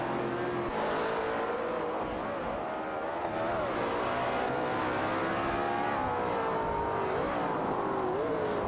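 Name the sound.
race cars driving in a video game race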